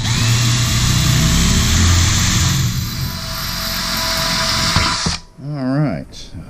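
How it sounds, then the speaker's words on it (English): A power drill bores a hole through the lid of a Weber 22-inch grill, a loud steady whine that runs several seconds, then stops abruptly before a person speaks. "Alright, so I'll just go ahead and drill that out."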